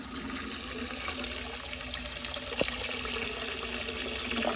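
Steady rush of water filling the tank of a 1970 American Standard toilet, a continuous hiss and gurgle at close range with no voices.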